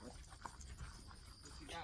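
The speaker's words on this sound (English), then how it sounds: "She's all growling at me." A dog growls low and steadily at close range, a faint rumbling snarl with some panting mixed in.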